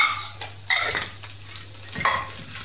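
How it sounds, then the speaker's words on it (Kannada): Food fries in coconut oil in a pan while a utensil stirs it, making a close, steady sizzle broken by scraping swishes as the pan contents are moved, with no voices. "ಕೋಕೋನಟ್ ಆಯಿಲ್ ಹಾಕಿ ಈ ರೀತಿಯಾಗಿ ಫ್ರೈ ಮಾಡ್ಕೊಂಡ್ರೆ ಆಯಿತು"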